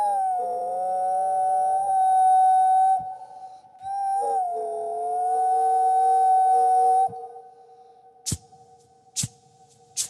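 A voice imitates a steam engine with a long, steady whistle-like hum held in two sustained blasts, followed by three short sharp puffs, loud and close on a Zee TV reality show stage.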